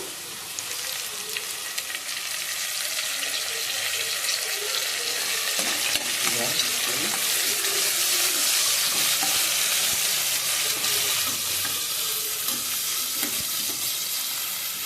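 Curry ingredients, mint among them, frying in oil for a chicken curry, with a steady dense sizzle and crackle that holds for the whole stretch at an even, close level, no voices.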